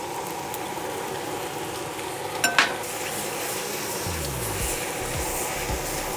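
Pumpkin pad thai with bean sprouts and cilantro is stirred over a roaring jet burner, a steady loud rush with scraping stirs and a couple of sharp metallic knocks near the middle.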